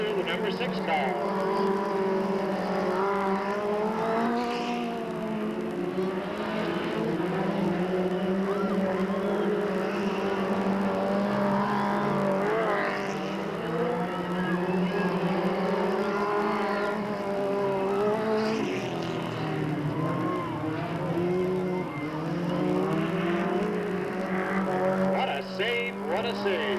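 Stock race cars lapping Delta Speedway, engines droning and rising in pitch as they pass, with a commentator's voice talking loudly over the continuous racing noise.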